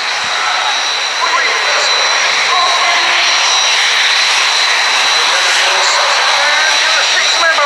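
Patrulla Águila aerobatic team jets passing overhead at an air show, a loud, steady broadband roar that holds for several seconds without fading.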